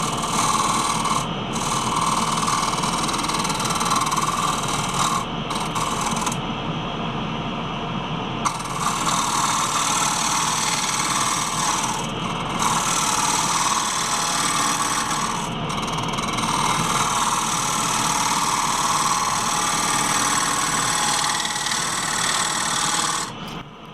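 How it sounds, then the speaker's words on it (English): Bowl gouge used as a shear scraper inside a wet cherry bowl spinning on a lathe, a steady loud continuous scraping hiss with brief dips where the tool lifts off, under the constant whir of the lathe. "I use a 3/8 bowl gouge as a shear scraper to enlarge the inside diameter."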